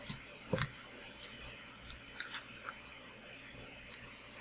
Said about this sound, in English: I'm going to take my really old scissors